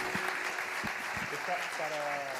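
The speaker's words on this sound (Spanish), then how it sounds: "Recibimos con un fuerte aplauso a Jorge Melguizo Posada." Seminar audience clapping to welcome a speaker, a dense, even applause heard throughout with someone talking over it.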